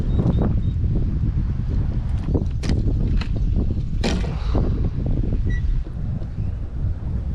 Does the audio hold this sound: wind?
yes